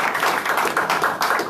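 A church congregation applauds, a dense, steady clatter of many hands clapping close by and filling the room, with no voices over it.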